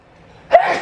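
A single short, sharp, breathy sneeze from a nearby person at the very end, following near silence, abrupt.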